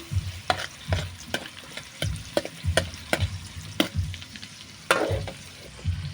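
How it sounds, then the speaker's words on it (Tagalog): Onions sautéing in a pan for a sauce, heard as a soft, close sizzle under a run of sharp, irregular knocks and scrapes from a utensil stirring against the pan, with no voices. "maggisa muna tayo ng sibuyas"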